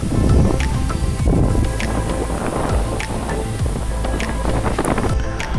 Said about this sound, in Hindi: इतनी तेज़ हवा चल रही थी वहाँ पे।